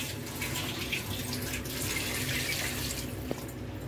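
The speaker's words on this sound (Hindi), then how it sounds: "2 कटोरे जो है वो पानी के शामिल कर रही हूँ इसमें मैं।" Water from two bowls poured into a pot of chicken pulao, a steady broadband splash and trickle running continuously for a few seconds at moderate level with no talking.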